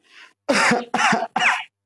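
A faint breath followed by three loud, close coughs in quick succession, each short and harsh.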